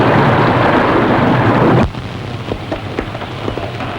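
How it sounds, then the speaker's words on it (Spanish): A heavy storm hits with dense, roaring rain and wind, then cuts off sharply to quieter scattered drops and patter. "Y su carga fueron azotados por la lluvia, los fuertes vientos y arrojados por las aguas del diluvio."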